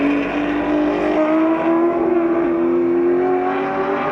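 A Ferrari 250 SWB race car at Sonoma Raceway drones past with a loud, steady engine note whose pitch shifts slightly as it goes by, heard alone without talk.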